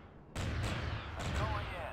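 Heavy booming cannon blasts from a space fleet battle video game, layered with rumbling battle noise and a voice speaking over the action.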